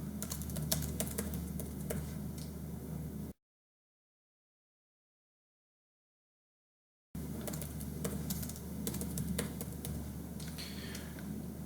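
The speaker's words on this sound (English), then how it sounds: "so we're just going to type them in" Typing on a computer keyboard, with quick irregular key clicks at close range, broken by a stretch of silence partway through before the clicking resumes.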